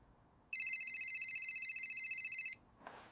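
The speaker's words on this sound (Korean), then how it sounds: "오늘 낮 낯선 번호로 전화가 왔다." A telephone rings once with a steady electronic tone lasting about two seconds, loud and close, in an otherwise quiet room.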